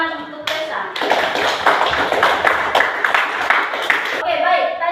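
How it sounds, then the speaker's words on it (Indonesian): Classroom group claps for a student, a burst of brisk, close applause with distinct individual claps that starts after a short bit of talk and fades back into speech. "Oke, tepuk tangan untuk Tessa"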